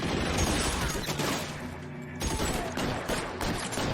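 Continuous gunfire from L.A. Noire, a dense rattle of shots and impacts that stays loud throughout, with a brief lull midway before the firing resumes.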